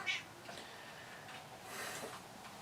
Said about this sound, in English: there's a cat trying to get in